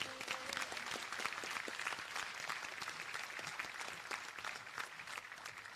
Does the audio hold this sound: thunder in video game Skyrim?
no